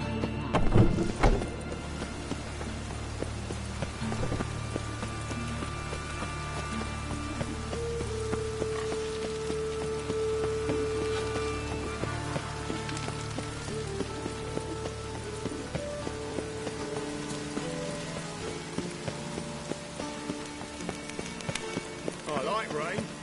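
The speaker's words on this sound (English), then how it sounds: "I like rain." Steady rain falls throughout a scene in The Witcher 3 video game, a constant dense patter at moderate level, with a brief sharp knock near the start and other low game sounds mixed in beneath.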